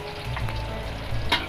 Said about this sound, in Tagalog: Tunulin ko lang yung bawang kasi ang bawang kasi madaling maluto.